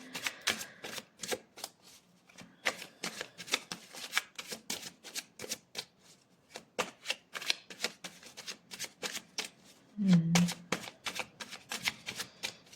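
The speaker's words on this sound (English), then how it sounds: "sometimes the shuffling can take a little while" Tarot cards are shuffled repeatedly in quick, riffling bursts with short pauses between them. A brief low thump interrupts near the end.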